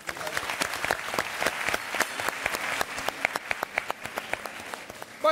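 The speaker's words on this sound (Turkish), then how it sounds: "Alkışlarımız Bayram Yıkılkan abi." An audience in a Turkish talk-show studio bursts into loud, sustained applause, with dense, rapid clapping that holds steady throughout.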